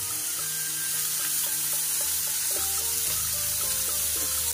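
Fish pieces frying in oil on a tawa over a medium flame, a soft continuous sizzle with faint crackles and light clinks from a utensil.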